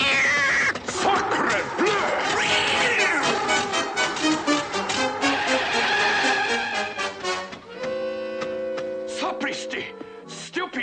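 An animated cartoon cat yowls and meows loudly amid a busy, shrill soundtrack with overlapping voices and music.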